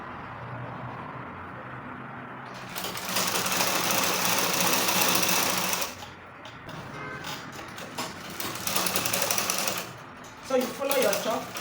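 A sewing machine topstitching trouser fabric, with fast rattling bursts of stitching separated by pauses, close and fairly loud, while a person talks between and over the runs.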